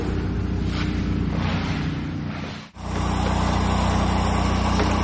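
A heat gun warming camouflage vinyl wrap on a truck hood gives a steady, close blowing whir that dips and cuts out briefly midway, then resumes at full strength.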